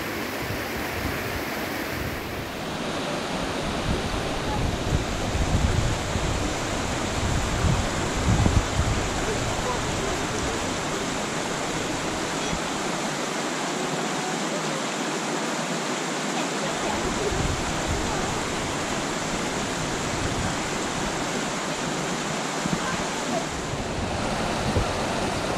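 Waitonga Falls on Mt Ruapehu pours in a steady, loud broadband roar of falling water, continuous and unbroken, with faint voices now and then under it.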